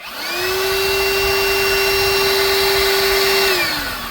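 A loud, steady motor whine runs nearly four seconds at constant pitch, then winds down: a drill with a 3/8 bit drilling fiberglass on a sailboat deck, with a vacuum cleaner droning alongside.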